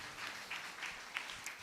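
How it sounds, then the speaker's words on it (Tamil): A church congregation claps hands together during a Tamil Christian service, a faint, scattered round of applause with loose, uneven claps lasting under two seconds. "கைத்தட்டி ஆண்டவருக்கு ஒரு நன்றி செலுத்துங்க."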